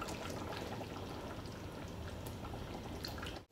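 A thin stream of fish sauce pours into a pot of beef massaman, a steady close liquid splash that runs for a few seconds and then cuts off abruptly.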